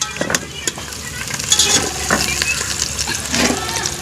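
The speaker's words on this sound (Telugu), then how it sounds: "ఉల్లిపాయ వేద్దాం" Onions frying in a pan for a crab curry, a close, fairly loud sizzle with scraping stirring strokes and the occasional clink of the utensil.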